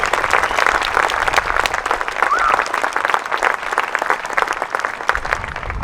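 A choir's audience gives a sustained round of applause, dense steady clapping from a large crowd throughout, with faint voices mixed in.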